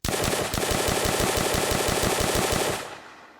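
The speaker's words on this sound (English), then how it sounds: "here's me spamming as fast as I can" An M1 carbine in an Unreal Engine Nazi Zombies game fires in a rapid, even stream of loud shots, about two dozen evenly spaced cracks for nearly three seconds before stopping abruptly with a short fading tail.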